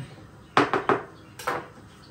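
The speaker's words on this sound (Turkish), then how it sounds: "Peyniri de doğrayayım." A few sharp knife taps on a hard plate as cheese is chopped, three quick chops, a pause, then two more, in a quiet room.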